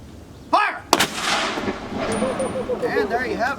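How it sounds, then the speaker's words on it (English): Historic cannon at Fort Mackinac on Mackinac Island firing a salute: a single loud boom with a sharp crack, followed by a long rolling echo and decay, while spectators murmur in the background. "And there you have it, a cannon salute welcome you."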